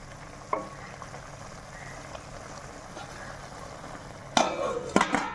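Chicken pieces fry in a pan while cooking off their water for a village-style pickle, a soft steady sizzle with a few louder stirring scrapes near the end.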